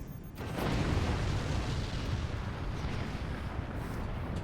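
Loud, continuous barrage of weapons fire and explosions from the Forts strategy game, building after a brief quiet start into a dense, sustained rumble of booms and blasts.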